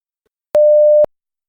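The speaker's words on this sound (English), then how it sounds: "When you hear the beep sound" One clean electronic beep sounds alone, a steady mid-pitched tone lasting about half a second with abrupt start and stop, surrounded by silence.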